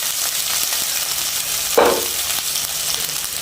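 Rice goes into a hot pan for pulihora and is stirred. A steady frying sizzle runs throughout, and a single scraping stir of the spoon against the pan stands out partway through. There is no talk.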